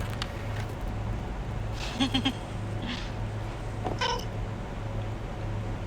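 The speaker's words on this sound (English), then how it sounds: "Should I call this a meow meow?" A pet cat meows several times, short nasal cries close by against a quiet indoor hum.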